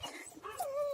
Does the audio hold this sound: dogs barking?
yes